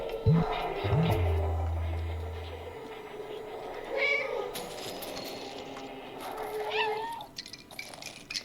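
Meows from the cat in the video game Stray, a couple of short calls early on followed by game sounds and faint effects, with a quiet background and no clear speech.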